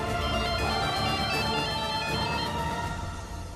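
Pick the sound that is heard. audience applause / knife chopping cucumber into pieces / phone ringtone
phone ringtone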